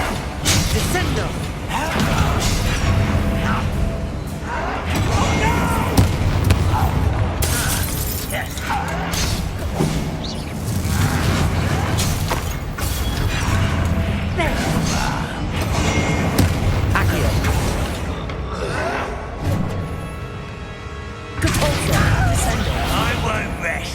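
The Descendo spell in Hogwarts Legacy slams down amid continuous loud game action, with dense thuds, crashes and shattering layered over a voice talking throughout.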